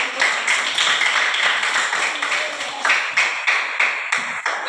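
A school class clapping together in a classroom: a burst of irregular hand claps from a group of students, close and moderately loud, fading slightly toward the end.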